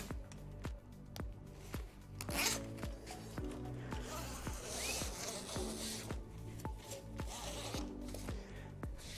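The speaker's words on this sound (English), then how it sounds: "This then lines the zip up for the middle rail." A zip is drawn along bed rail bumper padding on a profiling bed in a series of sharp, rhythmic rasping pulls, close and clear, with faint rustling between strokes.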